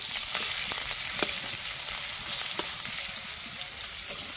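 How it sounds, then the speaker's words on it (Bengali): Coarsely chopped onions fry in a pan with cumin seeds, giving a steady, loud sizzle broken by small crackles and pops, alone with no talk. "পেঁয়াজগুলো কিন্তু খুব বেশি ভাজবো না, কোনো রকম একটু কাঁচা গন্ধ যাওয়া পর্যন্তই ভাজবো"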